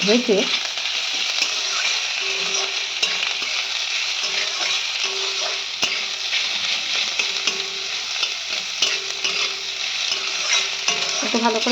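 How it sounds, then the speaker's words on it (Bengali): Onion and garlic frying in a pan, a dense continuous sizzle heard close up with steady stirring and occasional light clicks of the utensil throughout. "পেঁয়াজ রসুন দিয়ে একটু ভেজে নিই"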